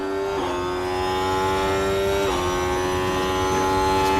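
Formula 1 race car in F1 Manager 24 at Suzuka, Japan, pulling alongside and past another car. A steady, loud, high engine whine holds throughout, with two brief dips in pitch as the gears shift.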